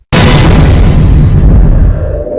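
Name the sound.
bomb explosion on CCTV footage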